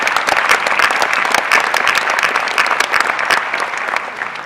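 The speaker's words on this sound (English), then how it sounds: "Let's give them a big round of applause" A crowd at the Pinnacle Awards 2013 ceremony gives a big round of applause, dense and sustained clapping close by that stays loud throughout before easing slightly at the end, with no speech over it.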